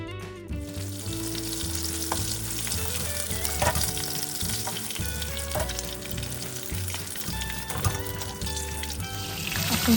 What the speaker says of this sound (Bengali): 1 চিমটি লবণ ছিটিয়ে হালকা ভেজে নিন যতক্ষণ না ফুলকপিগুলো সোনালি বর্ণ হয়ে আসছে